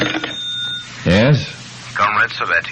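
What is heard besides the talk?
telephone ringing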